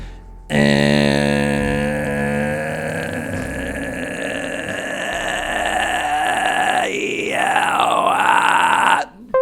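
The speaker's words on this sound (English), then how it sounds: "if you hear a wet gurgly sound start to develop from underneath this buzzery robotic sound, that's the fry" A voice produces a long, harsh, buzzing growl with a gurgly rattle underneath, distorted and loud, shifting in pitch before cutting off.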